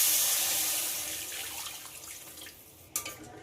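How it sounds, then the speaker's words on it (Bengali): Water pours from a tap or jug into a pan of cooking jackfruit seed and egg curry, a steady broadband rush tapering over a few seconds, ending with a brief sharp splash or clink near the close. "এবার এতে পরিমাণ মতো জল দিয়ে দেব।"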